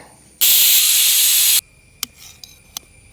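A pressure cooker whistle: a loud, steady hiss of steam bursts out for about a second, then stops, followed by a few faint clicks and a thin high whine.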